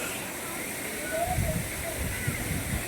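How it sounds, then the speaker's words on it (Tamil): Water cascades steadily at the Kutralam Five Falls, a broad, constant rushing wash heard from a short distance, fairly soft, with faint low splashes now and then. "5 அருவிலையுமே தண்ணி வர்றதுனால பார்க்குறதுக்கே அவ்வளோ அழகாக இருக்குங்க"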